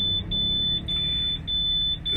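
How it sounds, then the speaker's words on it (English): A bus's low air pressure warning alarm, tripping at the 60 psi mark during a class B CDL brake inspection, sounds as a loud, piercing, continuous high tone, with a low engine rumble underneath. "The wigwam fell, the alarm sounded at the 60 psi marker, device is working properly."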